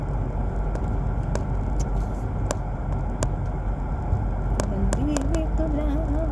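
A car is being driven, with a low, steady road and engine rumble inside the cabin. People talk over it, and a few light clicks and a brief tonal sound come near the end.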